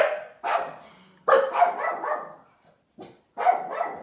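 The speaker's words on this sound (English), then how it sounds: "Let the dog bark," A house dog barks indoors in loud, close bursts, with several separate barks spaced by short pauses and no talking over them.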